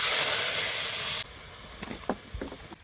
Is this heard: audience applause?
no